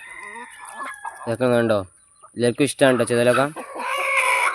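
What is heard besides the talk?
chickens clucking while eating termites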